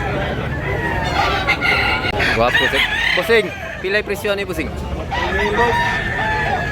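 A bullstag gamecock offered for sale at a crowded market in Tabunok, Cebu, crows loudly and close, with clucking fowl around it and men bargaining over the bird.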